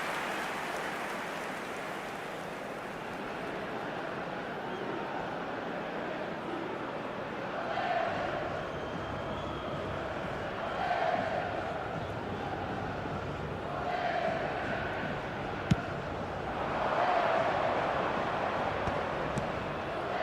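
A simulated stadium crowd in the eFootball 2026 video game during a Brazil versus Norway match, a constant roaring wash of fans with several cheering swells rising and falling, steady and distant-sounding throughout.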